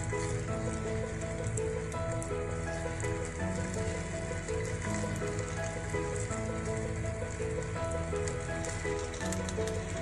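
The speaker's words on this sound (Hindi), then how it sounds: "पनीर के कॉर्नर्स भी हम सेक लेंगे। आप पनीर को फ्राई भी कर सकते हैं।" Paneer pieces frying in a pan make a constant crackling sizzle like light rain, steady and close, with faint background tones and no voices.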